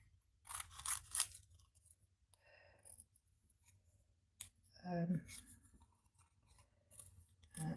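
Scissors snipping along a drawn outline in a craft setting, several short crisp cuts spaced apart with quiet rustling, while a person speaks softly between them.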